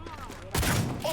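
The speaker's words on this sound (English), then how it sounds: "I think I'm gonna use the shotgun on him." A shotgun blast in the video game Cyberpunk 2077: one loud, booming shot about halfway through, cutting in over quieter game noise and faint voices and leaving a short rumbling tail.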